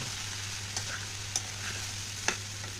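Soaked sago khichdi being stirred in a pan over very low gas: a soft, quiet background hiss with a few sparse spoon scrapes and light taps, close but faint, with a low steady hum beneath and no speech.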